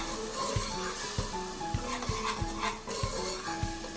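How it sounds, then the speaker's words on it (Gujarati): Spiced tomato puree being stirred in a pan for a masala mung curry, with regular scraping strokes roughly every half second over a steady low sizzle, close and moderately loud, no talking. "પ્યુરીને પણ સારી રીતે આપણે ચલાવી લઈએ"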